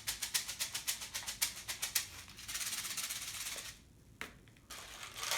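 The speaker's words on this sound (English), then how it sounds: "So here's our toilet paper shaker." A handheld shaker made from a toilet paper tube rattles in quick rhythmic bursts, then gives a steadier shushing rattle that drops away briefly before returning. No voices.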